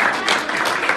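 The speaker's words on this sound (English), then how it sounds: "Let's give him a round of applause." Audience applause at a church gathering, a dense, steady wash of many hands clapping for about a second, loud and close with no pauses.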